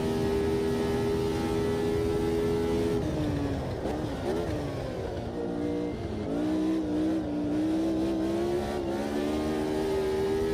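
Ford Sierra Cosworth engine in a sim racing game, droning steadily with a sustained harmonic tone that dips and climbs through gear changes and revs, loud and continuous with no talk.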